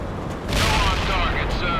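A heavy burst of weapons fire from World in Conflict crashes in about halfway through, a loud sustained roar of booms after a quieter stretch of battle ambience, with voices in the mix.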